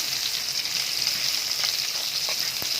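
Fish frying crisp in hot oil in a pan, a dense, steady close sizzle with faint crackles and one small knock near the end, no voices.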